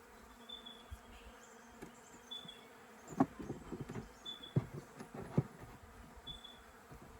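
Honey bees buzz around an open beehive in late summer, a faint steady hum with occasional louder passes close by, under light handling noise and rustling from a beekeeper working the hive.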